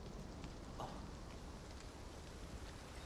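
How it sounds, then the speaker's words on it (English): Steady rain falls throughout a moment of Final Fantasy VII Rebirth gameplay on the Switch 2, a dense even hiss with faint scattered drop ticks and no clear talk. "good day for rain."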